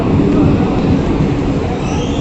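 A train rolls into a station on the way to Howrah, a loud close rumble of wheels and carriages held steady throughout with a faint squeal rising near the end.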